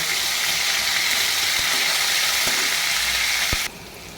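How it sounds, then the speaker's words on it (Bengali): Prawn heads sizzle steadily in hot oil in a pan, a dense continuous crackle with a few soft stirring clicks, then the frying noise drops away sharply near the end. "এই যে সাদা ভাজা করে নিচ্ছি এভাবে মাথাগুলো সাদা ভাজা করে তুলে দেব"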